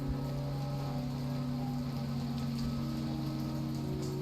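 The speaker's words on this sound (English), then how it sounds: "This rain is very relaxing in this game, though." Steady rain falling in an indie video game, a continuous even patter with a low humming drone beneath, fairly faint and unbroken with no talk.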